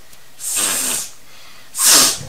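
Two sharp, breathy nasal sniffs, the second louder and closer, separated by a short pause.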